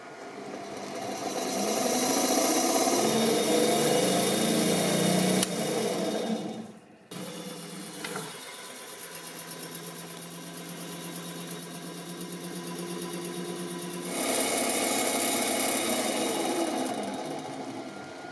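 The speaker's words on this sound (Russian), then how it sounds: "вот масляный насос полностью готов. Теперь давайте посмотрим, как это работает." A homemade oil pump for a jet engine running with a steady mechanical whir and hum, briefly cutting out partway before resuming at a slightly lower level and then rising again, close up with no talk.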